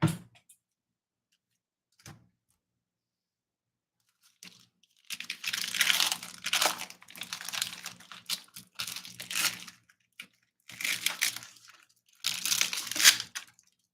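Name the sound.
crinkling of plastic food package being opened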